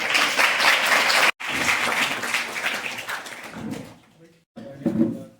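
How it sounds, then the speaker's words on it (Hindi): A student audience at a talk by a DSP breaks into dense, steady clapping that cuts off abruptly, resumes, then thins out to scattered claps and quieter room sound. "एक बार 7 तालियां चाहूंगा"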